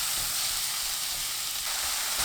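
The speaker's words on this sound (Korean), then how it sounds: "팬이 예열되면 센 불로 소고기를 볶습니다." Beef frying over high heat in a preheated pan, giving a steady, close, continuous sizzle with no talking.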